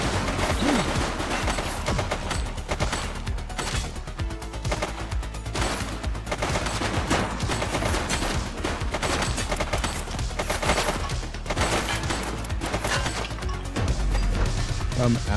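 Rapid bursts of gunfire from a shooter in The Precinct, a police video game, crackle and pound almost without pause across the whole stretch, loud and dense, with a player's voice talking over the shots.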